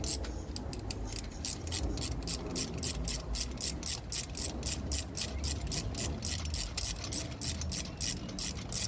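A ratchet clicks rapidly and evenly while the belt tensioner comes off a Ford BA BF Falcon engine, a dense run of close metallic ticks repeating steadily over a low workshop rumble.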